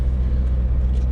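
A Lexus drift car's engine runs steadily at close range, a deep continuous rumble with slight fluctuations and no talking.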